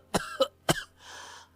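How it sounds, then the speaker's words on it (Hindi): Three sharp coughs in quick succession from a cartoon character, close and clear, followed by a breathy exhale. "ऊपर से खांसी।"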